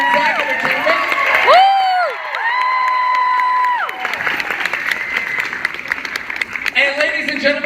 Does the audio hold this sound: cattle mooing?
no